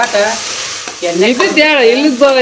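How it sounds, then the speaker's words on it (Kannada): Bonda fritters fry in hot oil with a loud, steady sizzle while a voice talks over it throughout. "ಬೋಂಡಾ ಮಾಡ್ತಾ ಇದ್ದಾವೆ ನೋಡ್ರಿ. ಬೋಂಡಾ ಮಾಡೋದು ಹಿಂಗ ನೋಡ್ರಿ."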